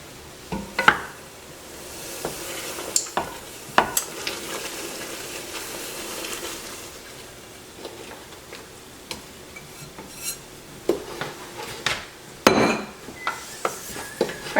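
A spoon stirs blueberry jelly with sugar and pectin as it returns to a boil in a pot, giving a steady bubbling hiss broken by scraping strokes and sharp clinks against the pot.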